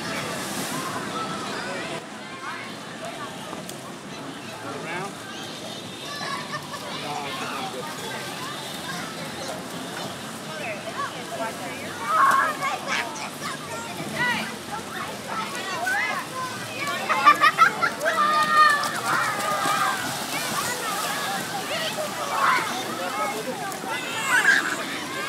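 Water sloshes and splashes in a swimming pool as someone gets in, with continuous watery churning that grows louder and choppier in bursts toward the end, and voices talking faintly under it.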